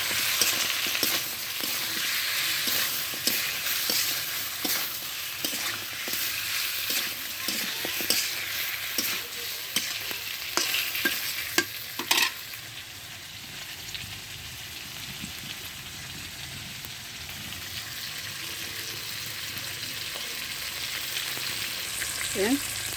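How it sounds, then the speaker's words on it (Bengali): Magur catfish curry with its roe sizzles and fries steadily in a pan, a dense crackling hiss with scattered stirring clatters, easing slightly partway through; no talking. "এইভাবে ভালোভাবে আমি কষিয়ে নেব"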